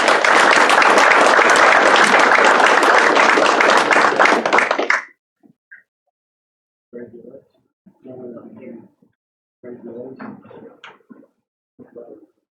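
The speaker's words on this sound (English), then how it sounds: "let's give them a round of applause" Applause at a career and technical education signing day ceremony at a technical college: a loud, dense crowd clapping for about five seconds that cuts off abruptly, followed by a few short spoken phrases in a quiet room.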